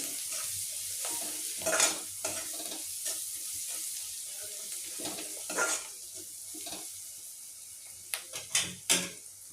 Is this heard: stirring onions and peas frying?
yes